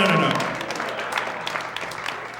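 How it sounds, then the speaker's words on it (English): Patchy, uneven applause from a live comedy podcast audience in Denver, loudest at the start and thinning into scattered claps, with a voice over the opening moment. "It was not full applause."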